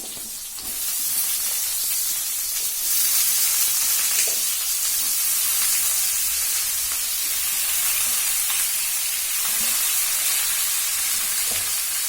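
Spices fry with browned onions in a pan for a jackfruit dish, giving a loud, continuous sizzling hiss with occasional soft stirring scrapes, close and steady with no talking.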